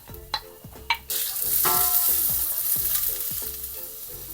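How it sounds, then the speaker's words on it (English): Garlic and onions frying in a pan, starting with a few sharp clinks of the utensil, then a loud close sizzle that surges as they hit the oil and settles into steady frying with rhythmic scraping strokes. "I'm going to put in garlic and onions."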